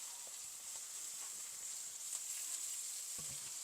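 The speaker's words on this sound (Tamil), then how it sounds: "இப்போ இதெல்லாம் நல்லா ஃப்ரை பண்ண விடுவோம்." Onion, green chili and curry leaves fry together in a pan for a bitter gourd stir-fry, a soft, steady, even sizzle with a few faint stirring taps near the end.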